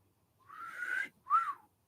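A person whistles, imitating a whistle sound, in two short rising-and-falling tones with a brief gap between them, clear and fairly quiet with no talk.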